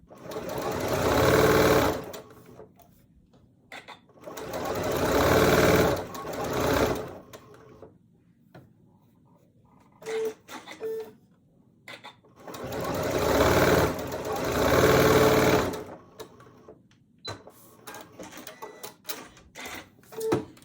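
Sewing machine running in bursts of a couple of seconds each as quilt block pieces are stitched together for a butterfly quilt block, with short pauses and small handling clicks between runs.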